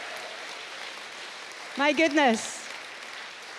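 Steady applause and cheering from a festival audience in Glasgow fills the room throughout, with a voice briefly speaking over the crowd midway.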